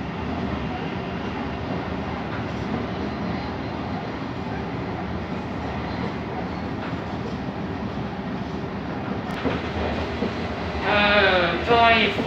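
An old nostalgic train rumbles along steadily in the Netherlands with constant low clatter and rolling noise from inside a carriage, then a brief squealing screech near the end.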